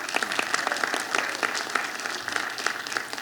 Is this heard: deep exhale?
no